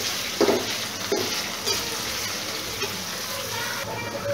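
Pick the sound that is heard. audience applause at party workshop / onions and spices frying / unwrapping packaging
onions and spices frying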